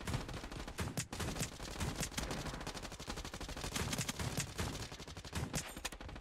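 Rapid pump-shotgun blasts in a Turkish shooter video game, firing in dense overlapping bursts almost continuously, loud and close with no talking.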